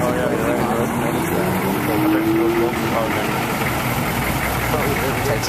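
A car engine with a titanium exhaust idles steadily with a low, continuous rumble that stays even throughout, with no voices standing out.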